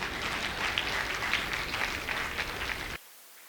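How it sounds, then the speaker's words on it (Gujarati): An audience at an arangetram dance debut recital claps in a dense, continuous round of applause that stops abruptly after about three seconds, leaving near silence. "શાયરી ગમી હોય તો તાળી પાડી શકો"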